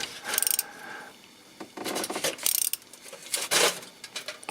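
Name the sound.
unscrewing gearbox solenoid valve screws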